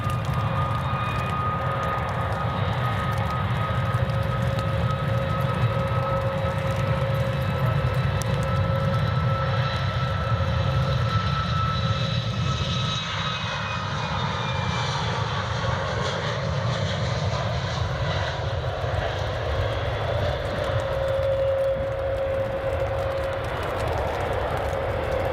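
A Boeing 737 Max jet airliner at Edinburgh Airport gives a sustained, loud engine roar with whining tonal notes that shift in pitch as it passes, continuous throughout.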